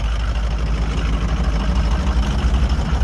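A shop vehicle engine idles steadily and loudly nearby, a continuous low rumble with an even throb and no change in pitch throughout.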